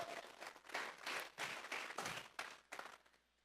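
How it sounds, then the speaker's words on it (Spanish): A church congregation claps together as an offering of applause to God, a rhythmic burst of hands that rises and falls in waves before fading out near the end. "Vamos a regalarle ofrenda de palmas al Dios de la gloria."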